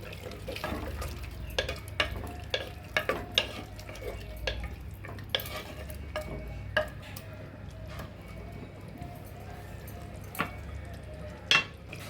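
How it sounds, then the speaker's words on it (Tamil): A spoon stirs biryani meat and cashew nuts in a pan, with soft scraping, scattered sharp clicks against the metal, and a low sizzle underneath, heard close and quiet with no talk. "இப்போ எல்லாத்தையும் ஒரு பரட்டி விட்டுருவோம்"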